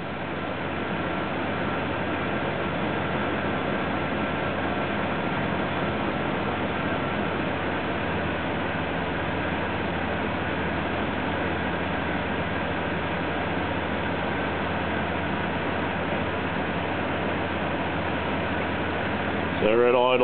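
An engine idles steadily while driving an HHO alternator with its field switched on, giving a constant, even hum with no change in pace until a brief rise at the very end.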